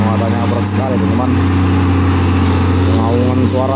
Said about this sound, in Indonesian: Raungan suara mesin,